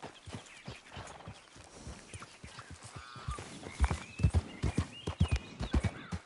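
In the video game Red Dead Redemption 2, a horse's hooves clip-clop in a steady walking rhythm that grows louder and more pronounced, with a brief whinny partway through.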